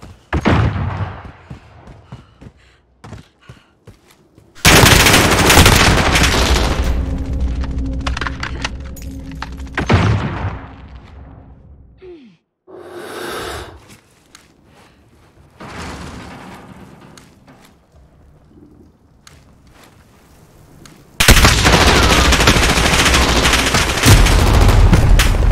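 Gunfire in a multiplayer shooter video game, with loud sustained bursts of shots in two dense stretches separated by quieter moments of scattered thuds and clicks.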